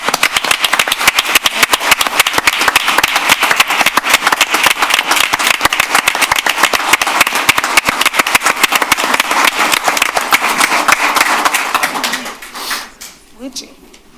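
A city council meeting audience gives loud, steady applause with crisp individual claps for about twelve seconds, then it trails off into quiet room noise.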